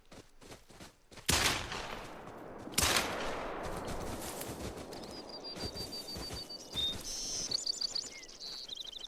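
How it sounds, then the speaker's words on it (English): Two sharp Glock pistol shots in a deer-hunting video game, loud and a second or so apart, followed by ringing outdoor ambience with bird calls and fluttering wings. "I put 2 shots into him with the Glock"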